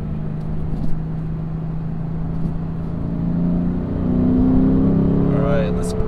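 A Lexus RC F accelerates from about 65 mph and brakes down to 15 during brake bedding, its engine note droning and rising in pitch, heard from inside the car at steady loudness.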